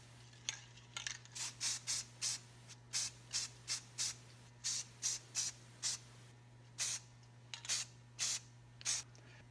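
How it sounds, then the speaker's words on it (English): Short bursts of spray paint hiss over a repaired plastic part, about a dozen quick sprays in an uneven rhythm with brief pauses, close and fairly quiet over a steady low electrical hum. "Now we're going to spray it with our color"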